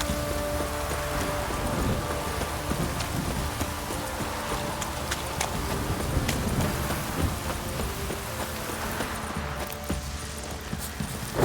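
Steady rain falls in The Witcher 3: Wild Hunt, a continuous close hiss of drops on surfaces with faint hoof clip-clops and low rumbles mixed in, no voices.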